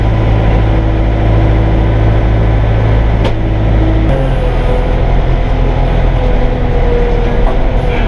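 Compact tractor pulling a BH26 bush hog across a difficult woods trail crossing, a steady loud engine drone with a low rumble throughout and a shift in pitch partway through.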